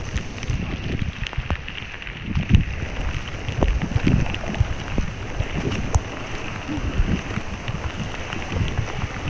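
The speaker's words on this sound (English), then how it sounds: "Yeah, that wind was something." Steady wind gusts buffet the microphone while boating on the Middle Youghiogheny river, a continuous rough roar with some water noise beneath it and no clear voices.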